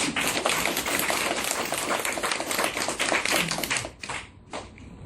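A lecture audience claps together in a dense, loud burst of applause that holds steady for about four seconds, then thins out and fades into a few scattered claps.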